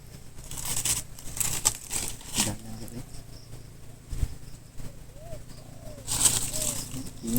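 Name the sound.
bird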